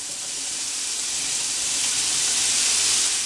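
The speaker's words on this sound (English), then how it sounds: "we're going to stir this around occasionally and saute for an additional 5 minutes" Asparagus sautéing with onions and garlic in a pan gives a steady, even sizzle with a soft watery hiss throughout, close by and with no talking.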